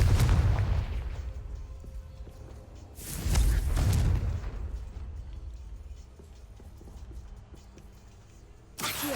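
A Confringo blasting spell from a Hogwarts video game explodes in a loud opening boom, with a second heavy blast around the middle and another sharp burst at the very end, separated by quieter rumbling ambience.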